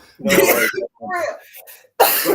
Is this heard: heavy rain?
no